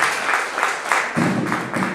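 A church congregation at a bishop's ordination ceremony applauds, steady dense clapping with rhythmic pulses, moderately loud and unbroken.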